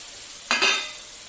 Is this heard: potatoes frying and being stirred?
yes